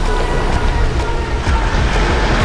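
Ocean waves wash against the shore in a continuous broadband roar with soft surging swells, close and fairly loud, with no voices.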